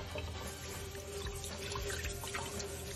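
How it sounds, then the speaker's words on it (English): Tap water running steadily into a pot while wild rice is rinsed, a continuous close splashing wash with small drips. "Rinse the rice. Rinse it. Rinse the rice."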